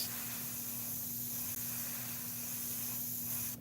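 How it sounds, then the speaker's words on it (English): Createx paint sprays from an airbrush through an opened bristle brush onto synthetic paper, giving a steady, continuous hiss that holds evenly for several seconds. It sounds close and moderately loud, with a constant low hum beneath and no speech. "So that's spraying through an object"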